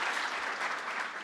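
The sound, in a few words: applause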